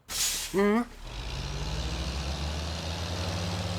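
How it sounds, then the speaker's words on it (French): Buses pull up with a sharp hiss of air brakes, followed by a steady, close diesel engine idle that rumbles on to the end, after a brief tonal sound at the start. "voilà des bus"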